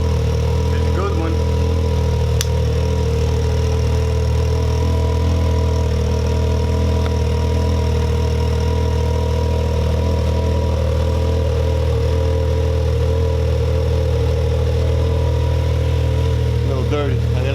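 Can-Am Maverick X3 XMR with an Evo full exhaust idling after sitting unused for weeks, a steady low rumbling drone that holds even throughout, close by and fairly loud, with no revving.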